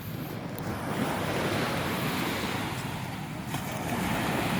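Sea waves wash onto a beach in Zambales, giving a steady, full rush of surf with wind buffeting the microphone throughout, and no voices.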